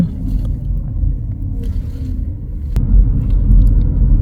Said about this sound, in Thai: ก็เลยถือโอกาสให้คุณสาขับรถให้จ้า